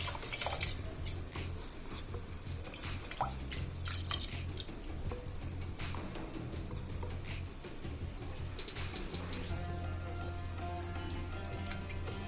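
Washed rice and dal are tipped into a pot of water, giving soft pattering, dripping and splashing with light clinks of a metal pot, close and fairly quiet throughout.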